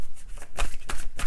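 Cards are shuffled for a weekly card draw, giving a short burst of close, crisp riffling and slapping sounds in quick repeated flutters over about a second.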